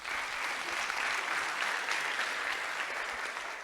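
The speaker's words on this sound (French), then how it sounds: "On peut les applaudir une nouvelle fois" A room full of people applauds at a digital communication awards ceremony, an even, sustained wash of clapping with no talking, holding steady throughout.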